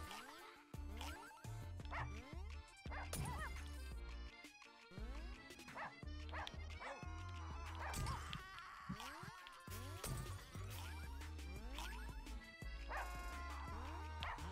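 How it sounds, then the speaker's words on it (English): A dog barking and yipping in a Russian subway, repeated sharp barks and high yips mixed with whimpers over busy, loud game music and effects, fairly close and frequent throughout. "What the hell is that thing? Oh, a dog."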